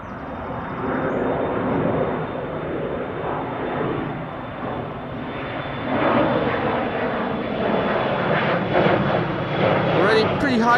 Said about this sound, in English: The next Embraer 175 is already airborne to Christiansand, KLM flight 1185.